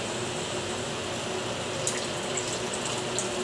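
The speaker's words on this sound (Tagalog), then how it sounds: "At maglagay tayo ng kunting tubig." Water is poured in a steady, even stream into a pan of fish adobo cooked with potatoes, a continuous close wash of liquid with no talk over it.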